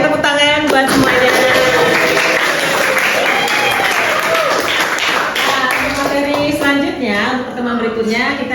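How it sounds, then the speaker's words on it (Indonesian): A class applauds together after a physics lesson on electrical energy and power, a dense, loud burst of clapping with voices and laughter mixed in throughout, fading slightly toward the end. "tepuk tangan buat semuanya"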